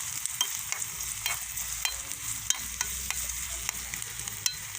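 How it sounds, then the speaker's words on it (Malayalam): Onions sautéing in a miniature pan, a thin steady sizzle punctuated by regular crisp taps and scrapes of a tiny spoon, close and quiet, with no voices. "ഇനി നമുക്ക് എല്ലാ ഉള്ളി ഇട്ട് കൊടുക്കാം. വഴറ്റിയെടുക്കാം."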